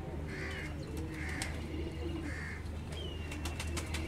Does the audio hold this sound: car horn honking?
no